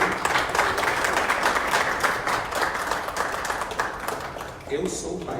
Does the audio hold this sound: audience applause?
yes